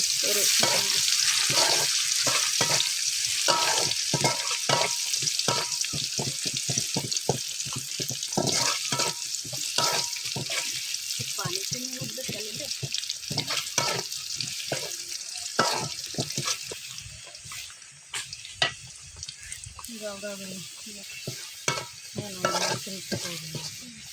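Tempering (baghar) for a Bengali bottle gourd curry sizzles and crackles loudly in hot oil, with stirring clatter and bursts of spitting throughout and no talking.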